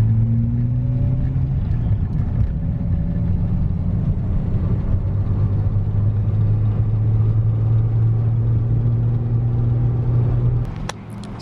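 A Datsun 280Z's engine idles steadily for most of the stretch, a close, continuous low rumble with a smooth hum, then it drops off sharply near the end.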